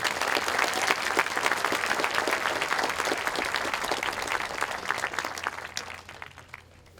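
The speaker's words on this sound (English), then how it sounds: "Will you please join me in another round of applause for our musicians?" Steady applause from an audience of friends, family and educators for middle school musicians at an 8th grade graduation ceremony, dense and sustained before thinning out and fading near the end.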